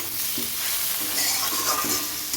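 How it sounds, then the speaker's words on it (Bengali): Steady sizzle of potatoes and snake gourd frying in a pan, with occasional stirring clatter, loud and continuous throughout. "চিচিংয়ের আলু ভাজা বসিয়ে দিয়েছি"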